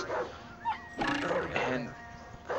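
Dogs bark and yip in the video game Ed Edd n Eddy: The Mis-Edventures, with a few short, sharp bursts spread across a busy mix of other game sounds.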